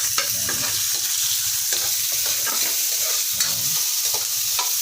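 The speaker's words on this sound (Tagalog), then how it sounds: "Igisa lang po natin siya ng mabuti." Garlic, onion and tomato are sautéed in a pan in an outdoor dirty kitchen. A close, continuous sizzle runs throughout, with steady stirring scrapes and no talking.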